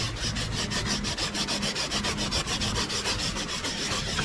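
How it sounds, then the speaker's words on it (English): Fine-grit wet sandpaper rubs back and forth over a motorcycle's clear-coated paint, with a soap lubricant, in a quick, even rhythm of about eight strokes per second, close and steady with no talking. "to sand through the clear outside of this area right here"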